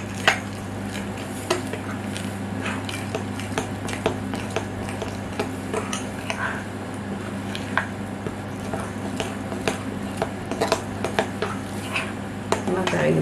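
A spoon scrapes and knocks through thick savory cake batter in a bowl, with repeated clicks and soft scraping strokes in a steady rhythm over a low background hum.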